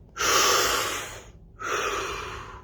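A person takes a deep breath, two long, loud, close breathy inhalation and exhalation sounds separated by a brief pause.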